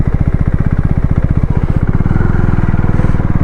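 A KTM Duke 390 motorcycle engine running close by, a loud rapid single-cylinder thrum with a steady pulsing beat that shifts slightly lower partway through.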